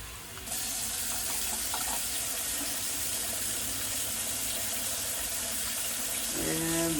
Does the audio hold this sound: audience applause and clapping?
no